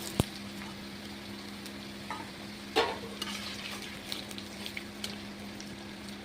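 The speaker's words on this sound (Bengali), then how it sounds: "আলুটাকে খুব ভালো করে এখানে ভেজে নিতে হবে।" Potatoes frying in oil in a pan while making chicken bhuna, a steady close sizzle with a stirring scrape and a few clinks, no talking.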